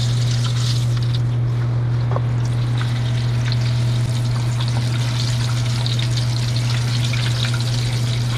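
Steady, dense sizzling and crackling of chicken frying in oil over 350 degrees, with a constant low hum underneath and no voices.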